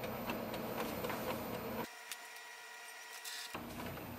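An Epson WF4830 inkjet printer runs its printhead cleaning cycle, giving a steady mechanical whir with faint ticks. The sound briefly thins and drops in the middle before the fuller whirring returns. No one talks.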